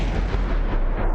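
A single heavy gunshot in a video game, a dense, booming blast filling the short moment loud and close, with a rumbling low end and no voices.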